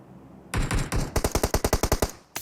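Automatic gunfire in PUBG Mobile: a rapid string of about a dozen sharp, loud shots in quick rhythm, with a short pause partway through and one more shot at the end.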